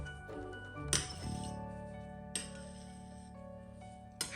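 A knife is set down against a drinking glass of water and super absorbent polymer, giving several bright clinks: a sharp one near the start, then softer taps spaced out, each ringing briefly over a quiet background.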